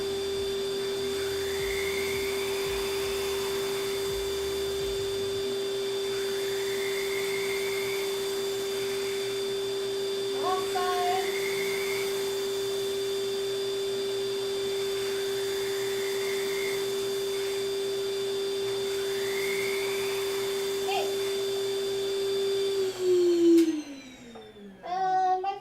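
Vacuum cleaner sucking up craft scraps at a cosplay crafting table: a steady, close motor whine holds for over twenty seconds, then winds down in pitch as it shuts off, with faint chirping sounds behind it.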